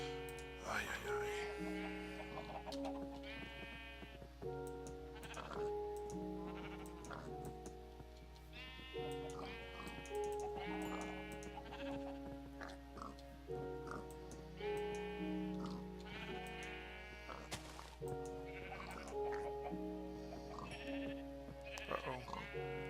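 Sheep in Minecraft bleat repeatedly over a long stretch, several overlapping wavering calls in an irregular rhythm, fairly close and clear above a quiet background.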